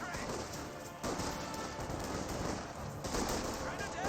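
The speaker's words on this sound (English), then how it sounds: "Volks Grenadiers charging, got volley fire activated" Volksgrenadier squad volley fire in the video game Company of Heroes 2, dense crackling rifle and gunfire bursts in a busy battle mix, continuous and moderately loud.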